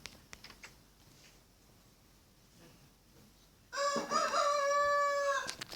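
Chickens in the video game Minecraft: after a few seconds of near silence, a loud, close fowl call bursts in and holds, sounding more like crowing than soft clucking.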